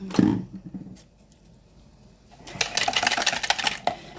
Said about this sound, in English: So whisk that really well